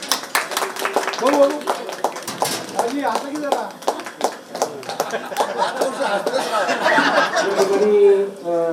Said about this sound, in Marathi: निर्मळ साहेब करता जोरदार टाळ्या आमच्या पाहुण्यांसाठी.